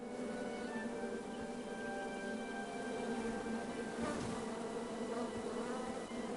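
Bees buzz in the King's Quest video game, a steady close insect drone that holds on for several seconds with a faint musical tone underneath and no voices.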